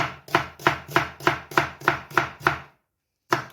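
A knife finely chopping a red onion on a board, eight quick rhythmic chops close up, then a short silence and one more chop, with no voices.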